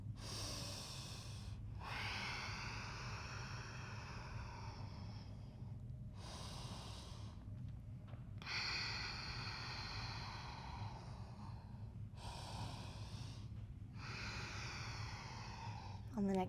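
Slow, deep breaths during an Ashtanga yoga pose, long airy inhales and exhales in a steady cycle, close and fairly quiet over a low background hum.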